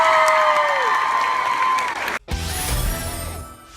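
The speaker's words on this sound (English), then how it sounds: "One more round of applause for" Comic-Con panel crowd in San Diego breaking into applause and cheering, with a sustained tone fading under the noise before a brief cut, then a burst of clapping, whoops and shouts from the audience.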